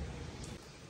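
Heavy rain pours in a steady dense hiss at a home where pets are kept, loud and continuous for under a second with no voices.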